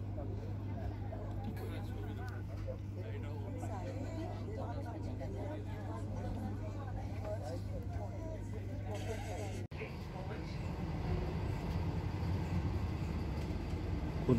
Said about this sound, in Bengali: খুর্দার থেকে আবার ট্রেন চলতে শুরু করে